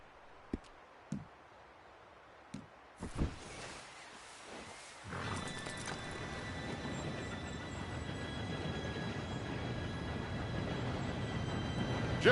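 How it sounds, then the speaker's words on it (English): A train approaches in a video game scene, a few sharp knocks giving way to a rising, steady rumble and rolling hum that grows louder as it arrives. "Train should be here any minute now."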